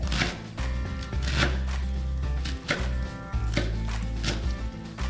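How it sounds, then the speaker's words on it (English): A knife chops basil repeatedly on a cutting board in steady, rhythmic strokes, close by and fairly loud over a low background hum. "just start running my knife through it"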